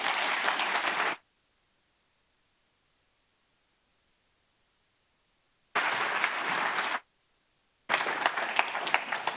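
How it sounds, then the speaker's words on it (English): A conference audience claps in broad bursts of applause that stop abruptly with silence between them, loud and close, with no talk. "Round of applause."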